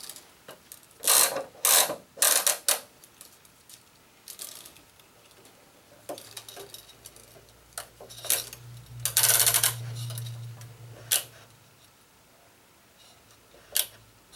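Clamps on a Gamma X-2 stringing machine snap and ratchet shut on a racket string, loud close clicks in quick bursts with scattered quieter mechanical taps and a brief low hum between.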